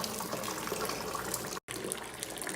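Sparge water splashing and trickling steadily onto a grain bed during Belgian Tripel brewing, a continuous close wash of liquid with a very brief dropout near the end.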